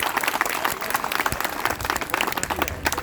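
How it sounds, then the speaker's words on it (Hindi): Audience at an award ceremony for an honour presentation claps steadily, a brisk, loud burst of many hands applauding together. "बहुत जोरदार तालियां"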